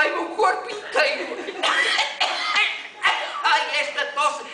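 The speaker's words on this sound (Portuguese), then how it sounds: "esta tosse" Person coughing repeatedly in a Portuguese spoken-word poetry performance, a series of rough, hacking coughs in irregular bursts, close and fairly loud, mixed with strained vocal sounds.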